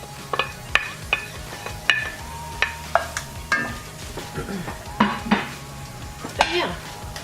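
Chopped onion goes into a hot pan for ham and cheese macaroni, with a soft sizzle under repeated sharp clinks and scrapes of a utensil against the pan, irregular and close.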